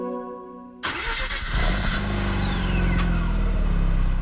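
A Mazda RX-8 1.3 rotary engine in Gran Turismo 6 fires up abruptly after a quiet moment and settles into a buzzy, steady idle, close and fairly loud.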